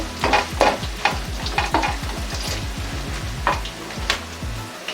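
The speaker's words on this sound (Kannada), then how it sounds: "ಸ್ವಲ್ಪ ಕರ್ಬೇವಿನ ಸೊಪ್ಪು ಹಾಕೋತಾ ಇದ್ದೀನಿ ಕರ್ಬೇವಿನ ಸೊಪ್ಪು ಹಾಕಿ ಜಸ್ಟ್ ಕೈ ಆಡಿಸ್ಕೊಂಡ್ರೆ ಸಾಕು" Curry leaves frying in hot oil for mango chitranna sputter loudly while a spoon stirs and clinks against the pan in quick rhythmic strokes, close up with no talking.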